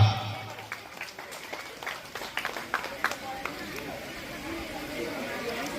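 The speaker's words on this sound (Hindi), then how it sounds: "मंचर समस्त अतिथि सम्मानित होचंती जणके समस्त जोरदार करताली देवा" Audience applause for honoured guests on stage at a Dahipur Rajajatra event: a dense, steady wash of many hands clapping that holds throughout, with a lively stretch of sharper claps in the middle and voices mixed in.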